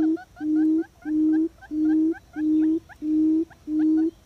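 A breeding yellow-legged buttonquail gives its low, deep mating call: seven evenly spaced humming hoots in quick succession, each under half a second, clear and close with little else around.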